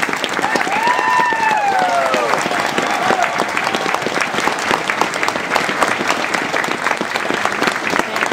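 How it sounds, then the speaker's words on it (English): A crowd applauds steadily with dense clapping at an Army Ranger graduation, while a few cheers and whoops rise near the start. "Please join us in a round of applause for these outstanding Rangers."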